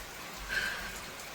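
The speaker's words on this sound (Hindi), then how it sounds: "बहुत जोर से बारिश भी आ गया है" Heavy rain pours down at a home during a downpour, a soft continuous hiss that is faint and steady, with no talking.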